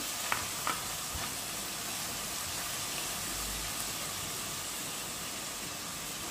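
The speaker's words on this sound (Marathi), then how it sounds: "हलवून घेऊ आपण छानपैकी." Green peas are stirred into a simmering potato curry in a pan, making a steady wet sizzle and hiss throughout, with a few faint scrapes of a spoon early on.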